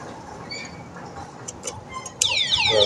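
Anti-theft alarm of a three-wheel electric bicycle going off after the parked bike is jostled, a few faint electronic chirps and then a loud warbling siren that sweeps up and down close by.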